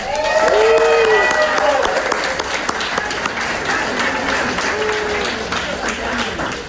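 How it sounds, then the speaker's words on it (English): A crowd at a Palm Beach gubernatorial forum breaks into loud, sustained applause with scattered cheers, while voices can be heard talking and calling out over the clapping. "big round of applause"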